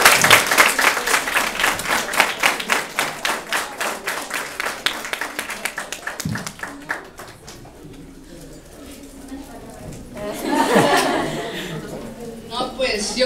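Audience applause at a talk in Tultepec, Mexico, with dense clapping for several seconds that fades, then a brief murmur and renewed scattered clapping and chatter.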